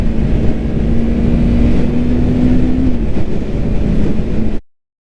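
A 2020 Yamaha MT-03 motorcycle under way, its steady engine drone holding one pitch and then dipping slightly, with wind rush, loud and close, cutting off abruptly near the end.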